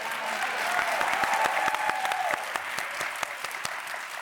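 A studio audience bursts into sustained applause for actress Michelle Williams, a dense crowd of clapping with a brief high cheer rising over it early on.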